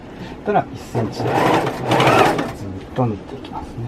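A sewing machine runs in two bursts stitching the seams of a dress at a home dressmaking class, a steady mid-loud whir between short stretches of speech.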